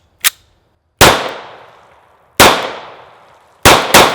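Sig P220 pistol firing .45 ACP rounds, four sharp loud shots with echoing decays, the last two in quick succession, heard up close with no speech.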